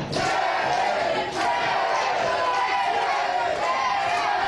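Capacity crowd at a live wrestling event at Pineapple Jacks, a dense, loud roar of cheering and yelling sustained throughout, with a brief dip near the middle and voices mixed within.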